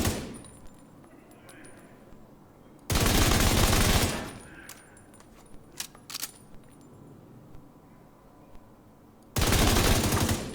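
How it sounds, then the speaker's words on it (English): Automatic gunfire from The Division 2 video game, with two long, loud sustained bursts standing out against quieter game ambience and occasional single sharp reports in between. "I think we can carry on shooting it"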